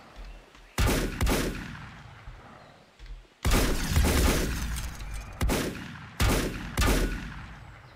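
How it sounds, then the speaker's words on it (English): Enemies in the video game Volcanoids die with loud shotgun-like blasts, a cluster of sharp booming shots arriving in bursts with short gaps, close and punchy, with no talk. "that shotgun was just the sound of them dying"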